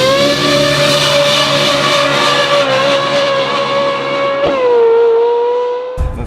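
A Ferrari 458 with a naturally aspirated V8 revs loud and close, a sustained high engine note that wavers and dips slightly before easing off near the end.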